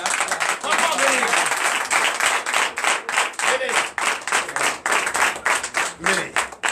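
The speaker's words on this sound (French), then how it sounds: "Faites vous lever et applaudissez ce papa-là." A Sunday church congregation in Comè, Benin, claps and applauds steadily for several seconds, dense and close, with voices calling out and talking over the clapping.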